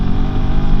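A Royal Enfield Himalayan 450 motorcycle pulls away in third gear, its engine a dense, loud, close rumble over a brief moment, with no talk.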